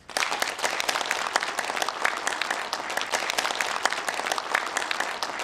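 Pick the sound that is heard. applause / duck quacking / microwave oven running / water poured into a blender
applause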